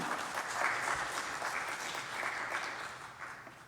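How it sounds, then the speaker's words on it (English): Congregation applauding during a church worship service, a steady wash of clapping from many hands that holds at an even level throughout, fairly distant and roomy, with no talking over it. "You should clap for that."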